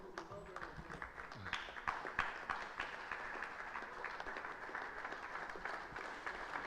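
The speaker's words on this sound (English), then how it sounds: "Let's recognize and clap for you." Audience at a public lecture gives a round of applause, dense crowd clapping heard from across a hall, moderately faint and steady, with some voices underneath.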